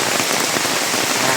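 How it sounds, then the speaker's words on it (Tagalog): Steady rain pours down at Buruwisan Falls, a dense, even hiss of drops on wet surfaces filling the whole moment without any voices. "enjoy natin ang ulan dito sa Buruwisan Falls"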